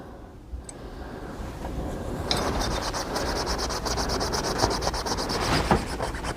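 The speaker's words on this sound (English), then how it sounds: "And then I'm going to use 0 grade steel wool to get some of the surface rust off." Grade 0 steel wool and oil scrub surface rust off the metal of a Heritage Rough Rider revolver, making a steady, close, continuous rasping rub with no talking.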